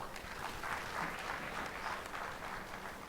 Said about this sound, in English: Please, more round of applause.